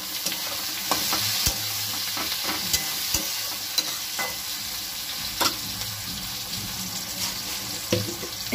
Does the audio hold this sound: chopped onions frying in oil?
yes